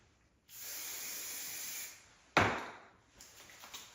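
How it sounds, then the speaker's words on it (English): A hair product sprayed onto a hand gives a steady hissing spray for about a second and a half, close and fairly soft, followed by a sharp tap and light rustling. "So she sprayed her hand, she's rubbing it in."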